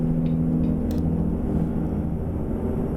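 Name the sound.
trucks passing in American Truck Simulator video game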